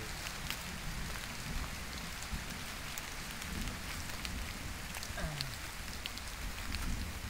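Soft, even rainfall hisses steadily, with scattered drops ticking on a surface and nothing else standing out.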